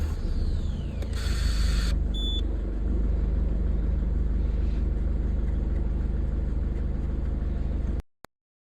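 A diesel car engine with a P0088 fuel-pressure fault fires after warning-light checks: a brief starter whir and chime tones, then a steady, loud low idle rumble that runs continuously until cutting off abruptly.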